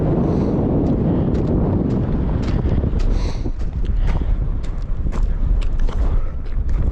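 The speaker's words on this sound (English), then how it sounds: "It's getting really windy." Strong wind roars against the microphone high on Leavitt Peak in the High Sierra, a steady, loud, low rumble with gusty buffeting and faint scuffs throughout.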